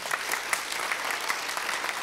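An audience at a Korean science and technology conference forum applauds, steady clapping with a few sharper individual claps standing out near the front, heard alone without speech.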